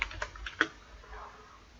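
Quiet, close computer keyboard typing while code is entered, a few distinct key clicks in the first second that then trail off to near silence.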